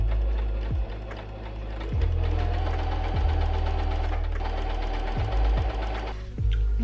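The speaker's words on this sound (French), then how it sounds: "je vais venir coudre à 1 mm du bord pour bien fixer tout ça ensemble" A sewing machine topstitches trousers one millimetre from the edge, a loud close mechanical hum in steady bursts, briefly slowing and stopping several times between runs.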